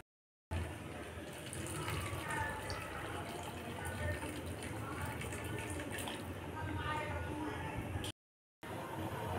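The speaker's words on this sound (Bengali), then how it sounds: "তখন আমি এই গরম জল দিয়ে দেব" Hot water poured into a pan of paneer curry fried in oil, a steady gushing pour for several seconds with a brief break near the end, with a voice speaking over it.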